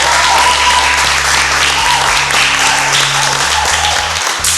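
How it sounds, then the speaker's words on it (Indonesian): Dense, loud applause from an office staff group at a church quiz event, continuous clapping throughout with a low hum beneath. "kita beri tepuk tangan buat"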